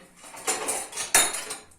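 Metal cutlery and utensils clatter and clink in a few sharp bursts, close by, with brief pauses between.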